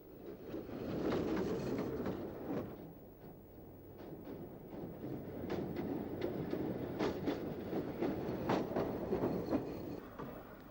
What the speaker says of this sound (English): Burrowing under central London are these driverless trains carrying mail for the post office.